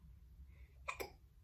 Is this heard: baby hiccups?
yes